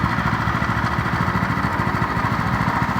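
A small pull-start engine on a HAM trainer runs close by with a steady, rapid chugging idle and even pulses, with no voices.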